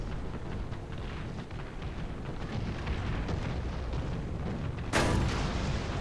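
Tank combat in War Thunder, a dense rumbling engine and battlefield din, then a sudden sharp impact burst near the end as a shell strikes the tank, loud and close.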